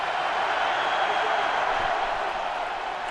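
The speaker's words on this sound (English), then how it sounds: "this crowd is alive" Super Bowl 2017 stadium crowd roaring in a steady, loud wash of cheering with no break, one broad continuous swell filling the whole moment.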